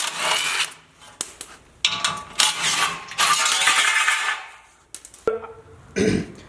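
Ratcheting socket wrench with a 16 mm socket working loose the bolts of a small truck skid plate, in bursts of clicking and metallic rattling with brief clanks and pauses between turns, close by.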